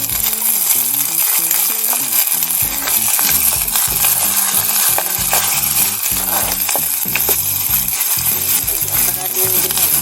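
Rampe and curry leaves tempering in hot oil for Sri Lankan kollu curry, a loud dense sizzle running steadily throughout, with a background music track.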